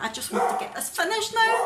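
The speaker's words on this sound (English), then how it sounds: "Sorry if you can hear Willa barking" A pet dog named Willa barks and yips a few times in the background, mostly masked by someone talking close to the microphone in a quiet home.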